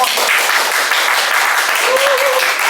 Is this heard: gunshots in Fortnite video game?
no